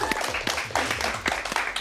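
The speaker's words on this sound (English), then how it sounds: "Give her a round of applause" Applause on a TV quiz show after a correct answer, a small group clapping with distinct sharp claps over a low hum, fairly close and steady.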